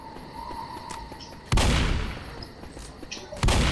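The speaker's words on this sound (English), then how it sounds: "for a shotgun, this thing has a pretty decent range" Two loud booming shotgun blasts in the zombie video game Left 4 Dead, about two seconds apart, each with a sharp attack and rumbling decay over a busy game background.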